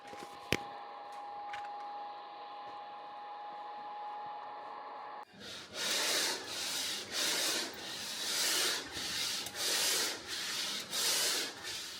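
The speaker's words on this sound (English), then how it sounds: "start sanding the bottom section just to make it ready for the fairing" Steady broadband rubbing of sanding across a boat hull's bottom section before fairing, rising and falling in rhythmic strokes after a few seconds of a quieter humming tool, close up.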